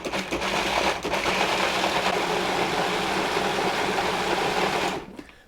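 Food processor pulsing flour for a spinach pie wrap dough, a loud, close, steady motor whir running continuously for several seconds before cutting off abruptly.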